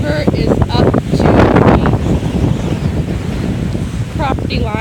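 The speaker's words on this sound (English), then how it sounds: "And it's not even raining here. It's just wind." Strong wind buffets the microphone beside a flooded river in Elizabeth City, North Carolina, during Hurricane Michael, with a loud, steady roar and water noise under it and a voice talking over it.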